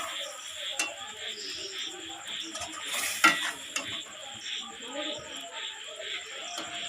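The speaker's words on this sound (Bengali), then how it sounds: "এবারে ডালটা ঢেলে দিচ্ছি। এর মধ্যে পটলগুলো যে ভেজে রেখেছিলাম সেগুলো দিয়ে দিচ্ছি।" Dal being poured into a pan of fried potol (pointed gourd) during home cooking, with a steady soft sizzle and stirring clatter of utensils against the pan, a brief louder clink midway.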